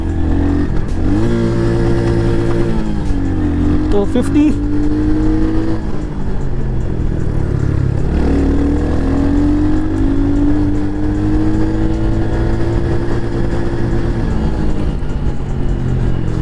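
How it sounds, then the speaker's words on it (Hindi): A Royal Enfield Hunter 350 motorcycle accelerates hard in first gear, its single-cylinder engine note climbing in pitch, dipping briefly and then rising again. The loud, continuous engine sound runs throughout, with one short spoken word near the start. "अब थोड़ा सा एक्सेलरेट करते हैं और चेक करते हैं कि भाई फर्स्ट गियर पे ये बाइक कहाँ तक जा रही है।"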